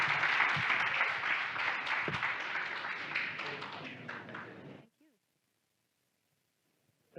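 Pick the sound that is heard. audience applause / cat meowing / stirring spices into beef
audience applause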